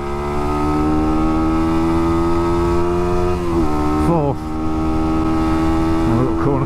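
A Sinnis SM-R 125 supermoto motorcycle pulls hard through its gears: a loud, steady single-cylinder drone rises in pitch, dips briefly at each of two quick gear changes, then climbs again, heard close up from the rider's position.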